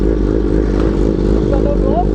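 Yamaha R1M sport motorcycle engine running steadily while riding, a loud, continuous mid-pitched drone with wind roar and a few faint squeaks near the end.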